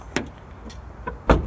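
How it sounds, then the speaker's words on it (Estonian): Rear door of a 2025 Opel Frontera opening: a short latch click, then a soft thud and another brief clunk as the door swings wide, close and fairly quiet in a still setting. "See tagumine uks avaneb päris laialt."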